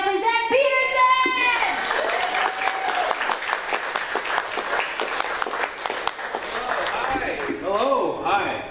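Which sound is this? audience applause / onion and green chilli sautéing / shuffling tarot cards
audience applause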